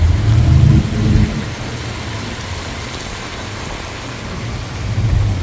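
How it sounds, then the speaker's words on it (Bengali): Rain falls steadily in Miami as heard from inside a moving car, a broad wash of patter over low rumbling road noise that swells at the start and end. "আজকে সারাদিন বৃষ্টি হচ্ছে"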